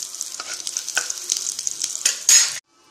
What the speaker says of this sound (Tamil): கடுகு நல்லா பொரியுது